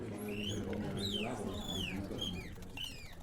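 A mockingbird tweets in an audio drama, a few quick rising and falling chirps repeated over a low, steady background hum.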